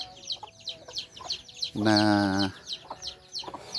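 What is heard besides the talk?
mother hen clucking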